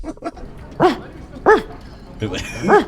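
A person imitates a dog, producing three distinct barking yelps spaced about a second apart, with brief talk at the start and soft background noise between them.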